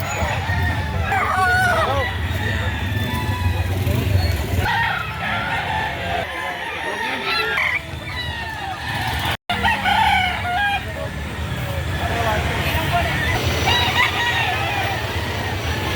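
Chickens and roosters crow and cluck continuously at a busy Saturday chicken market behind SM Lipa, Batangas, several birds overlapping close by over a dense, loud market din with occasional voices.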